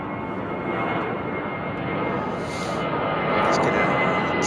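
A jet airliner departing overhead from London Heathrow Airport gives a loud, steady, broad engine roar that builds slightly toward the end, close and continuous.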